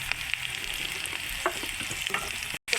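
Drumstick pieces (sajna data) frying in browned spice paste as they are stirred, a close, steady crackling sizzle with scattered scraping clicks from the spoon, ending in a short silent gap, no talking.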